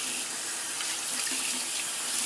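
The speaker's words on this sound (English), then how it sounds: "I'm just going to wash off the brush here so you can have a look at it." Tap water runs steadily over a shaving brush being rinsed, a continuous close hiss of flowing water with no talk.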